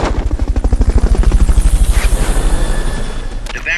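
A helicopter in the video game Metal Gear Solid: Peace Walker thumps loudly in a fast, even rotor beat that slowly fades, ending in a sharp burst of game sound.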